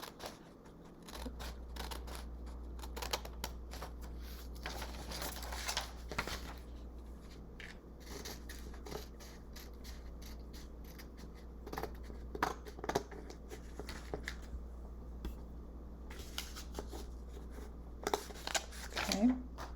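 Scissors snip and rustle through paper, cutting along the lines of a drawn paper cube. The cuts come in short, quiet bursts with pauses between them, and a person talks softly in between.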